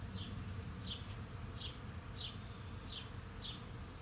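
A swarm of many bees buzzes outdoors, a faint, steady hum that fills the air, with soft recurring chirps standing out above it.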